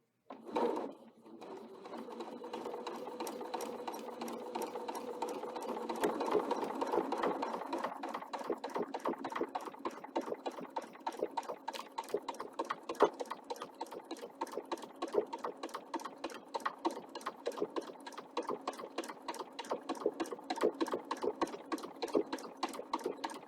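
A sewing machine running steadily for over twenty seconds, stitching down the right side of a fabric strip for a ruler-work table runner, with a rapid even needle rhythm after a brief start, close and moderately loud.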